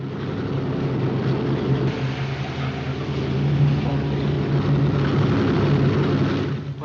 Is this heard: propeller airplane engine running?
yes